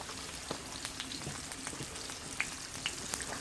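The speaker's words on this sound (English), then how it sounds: "Straight in our fry pan." Fish rubbed in turmeric, plain flour and vegetable salt fries in a pan with a steady close sizzle, scattered sharp pops and spits crackling over it throughout.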